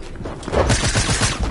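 Gunfire in a video game: a quick run of rapid, close shots in tight succession, loud and continuous over a second and a half, with no voices.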